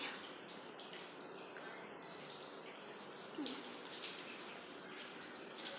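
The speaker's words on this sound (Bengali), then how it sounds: "কলটা বন্ধ করে দিয়ে আসি।" A water tap runs steadily in a home as a container fills, a continuous soft rushing hiss with faint bird chirps in the background and no talk.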